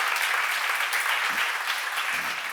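A church congregation applauds in a steady wash of many hands clapping at once, fairly soft and even from start to finish.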